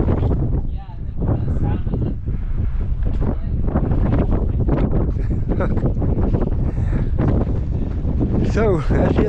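Strong wind gusting steadily across the microphone outdoors at a fertilizer plant, a constant loud buffeting roar with bursts of rumble throughout, with a voice briefly heard near the end.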